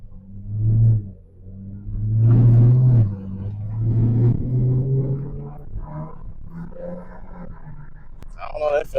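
A Dodge Challenger with a HEMI V8 and an 80mm throttle body roars as it drives, with loud rising revs and throttle surges that ease off, then lighter cruising engine noise, close to the listener.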